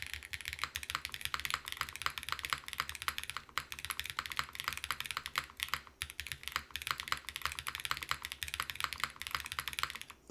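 Rapid, continuous typing on a KBDFans Dusk67 wooden-cased mechanical keyboard, close and fairly quiet, with dense clacky keystrokes and brief pauses, no talking.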